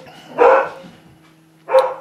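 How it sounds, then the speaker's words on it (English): A dog barks twice from a nearby room above a basement, two short sharp barks about a second apart, with a faint low hum in the background. "apparently the dog wants me to come up from the basement."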